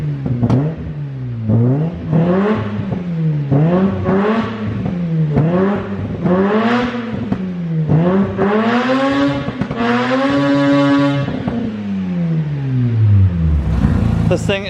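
Mazda 13B rotary engine in a truck revving hard several times in a row, each blip rising and falling in a rhythmic pattern and building to a long high wail before it drops off, loud and close.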